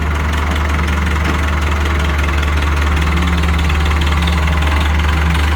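A 6600 tractor diesel engine idles steadily, a loud, continuous low rumble with a faint knocking throb throughout, no voices over it.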